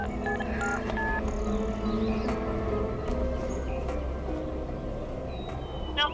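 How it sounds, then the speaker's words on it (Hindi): Telephone dialing tones beep in a quick series of short, clear pitched blips against a quiet indoor background, each tone distinct and close. "फोन करती हूँ।"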